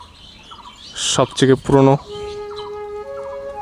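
Turkish Tumbler pigeons in a loft give a loud burst of throaty, pulsing calls in the middle, with a brief spoken voice and quieter bird sounds around it.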